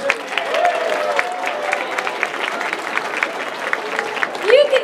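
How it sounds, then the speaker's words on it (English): A panel audience at a Bronycon convention seminar applauds itself, steady moderate clapping that runs throughout while voices and whoops rise over it, with a loud vocal exclamation near the end. "Give yourselves a round of applause."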